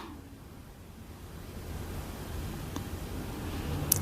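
Fennel seeds fry in hot oil for a vegetable kurma, producing a steady, soft, close hiss of bubbling oil that grows slightly louder toward the end, with no talking.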